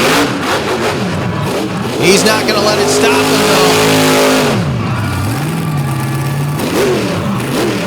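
A drag truck engine revs hard and rises and falls in pitch while its transmission fails, the note loud and close throughout, with an announcer talking over it.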